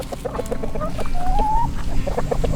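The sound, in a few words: chickens clucking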